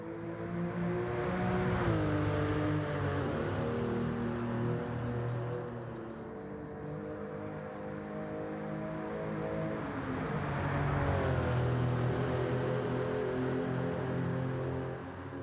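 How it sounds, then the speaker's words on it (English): Porsche 911 Carrera RS (964) flat-six in Gran Turismo 7 revs hard and steadily, its deep rasping drone climbing and dipping through gear changes, loud and continuous with no talk. "it's still that typical Porsche sound with an extra deep grunt to it"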